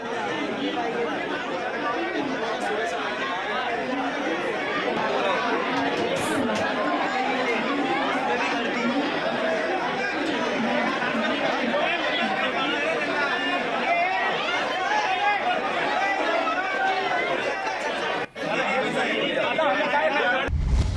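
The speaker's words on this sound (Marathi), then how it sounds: "रेल्वे स्थानकात प्रवाशांची तुफान गर्दी झाली" A dense crowd of passengers fills Badlapur railway station after a 40-minute train delay, a steady loud hubbub of many overlapping voices lasting throughout, with a brief dip near the end.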